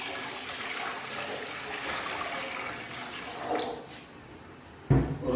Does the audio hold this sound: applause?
no